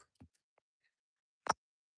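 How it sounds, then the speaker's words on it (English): A novelty Trump clock ticks in a quiet room, giving a few sparse, faint clicks and one sharper, louder tick near the end. "That dang Trump clock from Ollie's"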